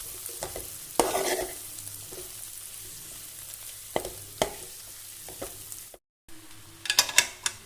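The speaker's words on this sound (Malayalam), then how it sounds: "നമ്മുടെ വഴറ്റി വെച്ചിരിക്കുന്ന സവോളയൊക്കെ ആയിട്ട് നല്ലതുപോലെ ഒന്ന് ഇളക്കിയെടുക്കാം" Green gram being stirred into sautéed onions in a pan, with scraping spatula strokes and light sizzling, a few sharper clatters, and a brief silent gap before more stirring.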